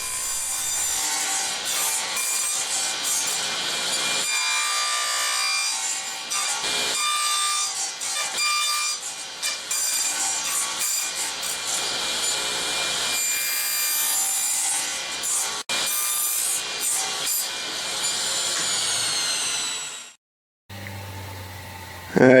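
Steady back-and-forth sawing through wood, loud and close, running continuously for about twenty seconds before stopping abruptly.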